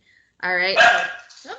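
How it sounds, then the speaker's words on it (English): A Basset Hound and Miniature Pinscher mix named Winston barks once indoors, a single loud bark followed by a brief yip, overlapping a person speaking. "Sorry about my dog."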